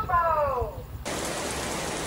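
Steady afternoon rain sets in abruptly after a first second of a voice in the background, then fills the scene as an even, broad hiss of falling water.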